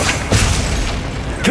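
Bombarda spell explosion in Hogwarts Legacy, a loud deep boom with rumbling bursts and a sharp crack near the end, in the thick of combat.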